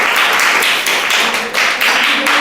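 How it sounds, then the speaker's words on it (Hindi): Audience applause for a contestant who answered correctly at a children's general knowledge quiz, a loud, dense burst of many hands clapping close by, without any talking. "राधिका कुमारी के लिए एक जोरदार ताली होना चाहिए"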